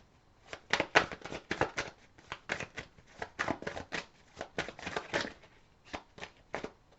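Tarot cards are shuffled and drawn by hand in a quiet room: a rapid series of soft papery riffles and slaps, close and faint, with brief pauses between bursts.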